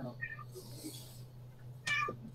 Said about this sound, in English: Sorry, I got distracted by the cat.